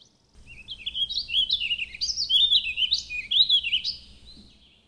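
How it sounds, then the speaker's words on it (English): Warbling vireo song outdoors: a long, rambling run of quick, slurred, high warbled phrases, clear and fairly close over a low background rumble, rising and falling in loudness before fading out. "over here, there's a warbling vireo"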